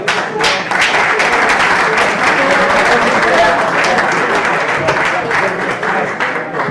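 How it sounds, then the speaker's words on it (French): Audience applause at a junior football awards ceremony: loud continuous clapping from a crowd, dense and steady throughout, tapering slightly at the end. "On peut l'applaudir."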